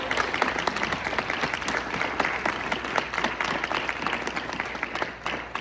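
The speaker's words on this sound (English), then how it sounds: "Big round of applause for everybody who's presented." A room full of people claps steadily after a series of presentations, a dense, even round of applause that holds throughout and fades slightly at the end.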